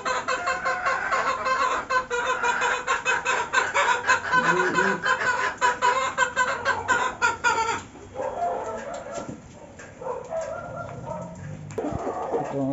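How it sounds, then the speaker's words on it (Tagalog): A flock of native backyard chickens, wet from a cleaning and crowding around silage feed, clucks and squabbles loudly and continuously at close range, the noisy chatter thinning slightly toward the end. "Ito ang ating mga native chicken. Ayun, nagkakagulo sila."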